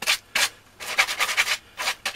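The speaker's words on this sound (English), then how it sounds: "take a piece of sandpaper" Sandpaper rubs back and forth over saw-cut wood on a pom pom blanket loom, clearing away sawdust splinters in five close, bright scratchy strokes with brief pauses between them.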